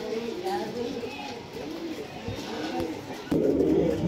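Duma pigeons cooing softly among other pigeons at a bird sale, with someone talking over them throughout, the coos low and partly masked by the voice.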